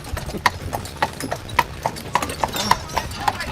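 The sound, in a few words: horse hooves clip-clopping while pulling a carriage uphill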